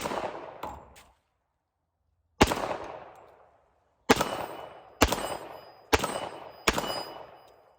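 Springfield Armory 1911-A1 Mil-Spec .45 ACP pistol firing outdoors, loud sharp reports with ringing decay: a couple of early shots, a pause, then a single shot and a steady string of four more.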